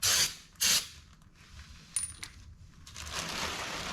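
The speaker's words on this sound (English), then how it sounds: "let's just hitting it with brake clean to clean it off" Brake cleaner sprays from an aerosol can onto engine parts during a timing rebuild, with two short loud bursts followed by quieter hissing and a longer steady spray near the end.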